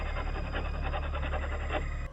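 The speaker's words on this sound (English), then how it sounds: "A growling sound, possibly from an animal." Outside a house at night, a trail camera picks up an unseen animal's low, rasping growl, a continuous breathy rumble that lasts throughout and stays loud and fairly close before cutting off abruptly.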